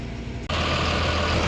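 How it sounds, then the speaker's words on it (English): A farm tractor engine idles with a steady low rumble that jumps louder after a brief dip, close and continuous. "we'll let that tractor idle for a bit"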